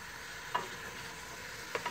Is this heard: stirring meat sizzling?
yes